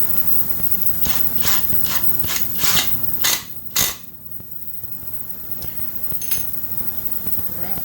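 Ratcheting clicks of a screw being threaded into a hole on a Husqvarna 395XP chainsaw cylinder, a rhythmic series of close mechanical ticks followed by a couple of sharper clacks, then quieter handling.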